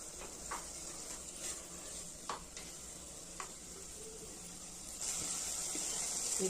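A rice bath mixture is stirred in a pan over high flame, giving a soft steady sizzle with scattered scraping strokes of the spoon, no voices.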